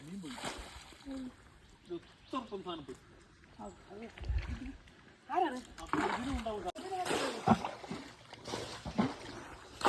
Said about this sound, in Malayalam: ആഞ്ഞു വെള്ളം കളയുകയാണ്